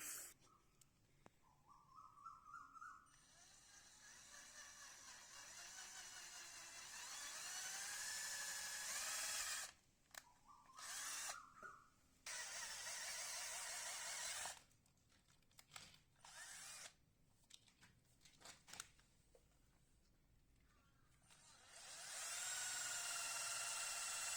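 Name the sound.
power drill drilling holes in an air conditioner compressor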